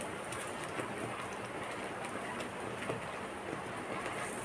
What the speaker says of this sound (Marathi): पावसाचे दिवस नसतानासुद्धा पाऊस पडत आहे